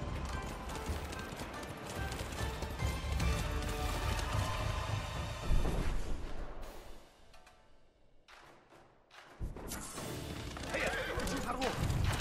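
Horse neighing in a video game, a loud whinny with clip-clop hooves and mechanical clatter under a dense game soundtrack, briefly dropping quieter before the full mix returns.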